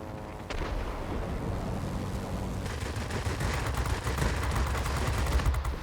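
Rapid bursts of aircraft machine-gun fire from a Yak-7 M-82 fighter in World of Warplanes, a sharp onset followed by sustained rattling volleys that grow denser and louder toward the end, with no talk.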